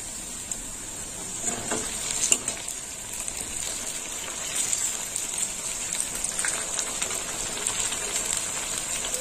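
Steady sizzling of bitter gourd slices frying in hot oil, a continuous crackling hiss with occasional soft clinks, no voices.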